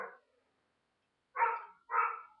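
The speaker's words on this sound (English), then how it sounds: "The dogs are barking." Dogs barking at a distance on a rainy summer day, two short mid-pitched barks close together after an earlier brief one, moderately loud with quiet in between.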